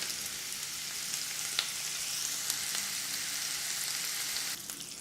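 Chorizo browning in oil in a skillet gives a continuous, even sizzle with a few light pops, fairly quiet and steady throughout, with no talking.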